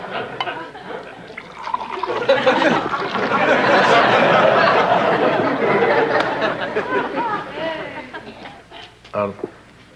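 Water pours into a glass in a sustained, rising gurgle at close range, with voices and faint laughter around it.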